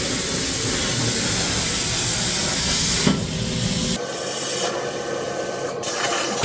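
CNC plasma cutter slicing through metal, a loud continuous hiss and rushing roar close by that shifts in tone partway through.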